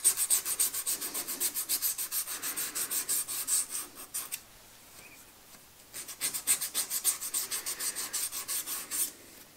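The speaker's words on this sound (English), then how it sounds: "Followed by a small piece of 400 grit emery cloth." A small piece of 400 grit emery cloth is rubbed back and forth over a metal dial for a lathe, making rapid rhythmic rasping strokes that pause briefly midway, then resume, close and fairly quiet.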